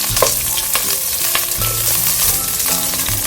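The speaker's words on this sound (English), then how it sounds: "I'm just gonna add some onions. I'll saute the onion a little bit." Onions sauté in a hot pan for a pumpkin soup, giving a loud, continuous sizzle with occasional scraping stirs and clinks of a utensil against the pan.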